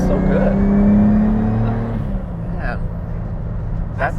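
A Toyota 1JZ engine in a 90s Toyota Cressida, set to low boost, revs and then settles. A loud droning engine note rises and falls, then fades under the cabin hum while a person talks.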